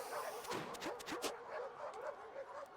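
Several small dogs yip and bark in quick, rapid bursts over a busy stretch of game music and effects in River City Girls 2, the barks fairly close and bright, with no talking.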